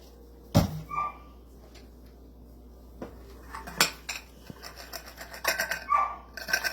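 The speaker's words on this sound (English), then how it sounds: "if I can get the dog to shut up in the other room" A dog barks faintly in another room during cocktail prep with grenadine syrup, a few distant muffled yaps scattered among nearby clinks of glassware, cutlery and dishes.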